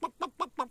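Four quick, evenly spaced clucks from a chicken, close and clear, in a short rhythmic burst.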